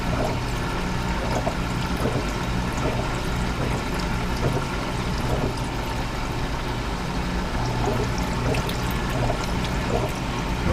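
Thinned model paint pours from a container into a bottle during a Gundam model kit build, a steady continuous liquid trickle close by with a constant background hum and no talking.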